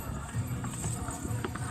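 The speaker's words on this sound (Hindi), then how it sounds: "इस रास्ते का बस एक ही ड्रॉबैक है, यहाँ पे घोड़े भी आपके साथ चलते हैं।" Horses' hooves clip-clop along the pilgrimage path to the Vaishno Devi shrine, a busy, steady patter of hoof strikes close by amid crowd murmur and background voices.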